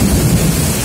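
Thunder rumbles low and heavy through a downpour of heavy rain at a bus depot, a steady loud roar filling the whole moment with no speech.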